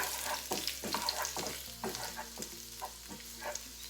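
Chopped garlic fries in a pan for a mushroom omelette, a soft sizzle under repeated scraping strokes of a utensil; close and quiet, no talking.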